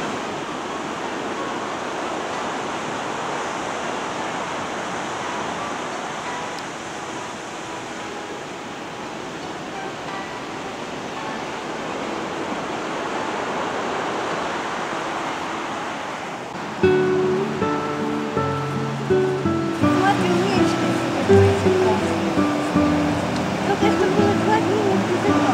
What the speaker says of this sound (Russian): Идем по тропе, а под нами вот такие волны.